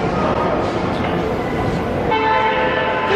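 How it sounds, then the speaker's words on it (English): A Disneyland train arrives with a rumbling approach and then sounds its horn in a loud sustained toot partway through, while people talk nearby. "The train's coming."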